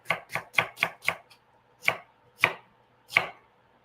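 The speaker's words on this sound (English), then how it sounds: "cutting my fennel into my julienne" A knife chops fennel into julienne strips on a board, eight crisp close cuts in an uneven rhythm, quick at first and then more spaced out, with no talking.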